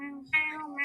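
A person's voice imitates a cat's meow, giving a couple of soft, drawn-out mews in quick succession, close and fairly quiet with no other sound around it.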